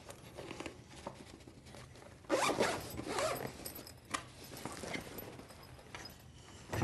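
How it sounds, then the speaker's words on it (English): The zipper on a tote bag for aluminum seismic survey staff sections is drawn open in one close, raspy pull, followed by soft handling and rustling of the bag. "And unzip the tote bag and remove the two staff sections,"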